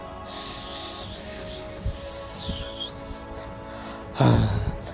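A long, airy whoosh like a heavy exhaled breath from a tree in Congo, rising and falling in waves, ending in a louder low rustling burst.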